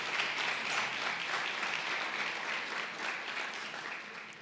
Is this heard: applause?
yes